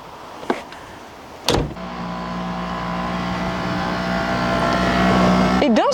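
On an early-1990s Porsche 911 Carrera 4, a couple of mechanical clunks, then a steady electric convertible-roof motor whir that holds and builds under a low engine hum, ending with a rising whine.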